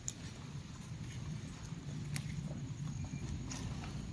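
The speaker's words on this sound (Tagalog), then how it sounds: "Malakas ang ulan" Heavy rain pours steadily outdoors as a broad, dense patter, constant and close across the whole stretch, with a few sharper knocks scattered through it.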